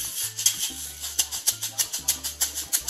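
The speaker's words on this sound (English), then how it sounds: "And again, it's the gold plated aluminum shaker." Tycoon gold-plated aluminum shaker, about 8 inches long, shaken in a steady rhythmic pattern close up, giving bright, gritty rattling swishes with repeated accents, mostly on its own.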